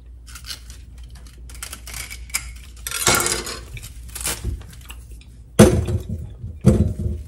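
Seafood and water go into a glass casserole dish in a home kitchen for an oven seafood boil: scattered soft rustles and taps, then several sharp clinks and knocks against glass, the loudest near the end.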